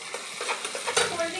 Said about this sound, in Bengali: ভালো করে তেলের মধ্যে নাড়লে উপরে কারি পাতা ছড়িয়ে দিলাম